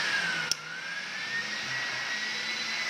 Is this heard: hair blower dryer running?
yes